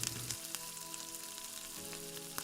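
Garlic frying in hot cooking oil makes a quiet, steady sizzle with a brief louder crackle at the start and again near the end, with no talking.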